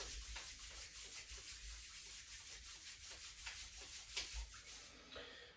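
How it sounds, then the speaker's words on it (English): Palms rubbed together over the chest while the soles of the feet rub against each other during a yoga mudra. It makes a faint, steady, soft friction hiss throughout in a quiet room, and no one speaks. "rub the palms together over the chest. Lift your feet and rub the soles of your feet together"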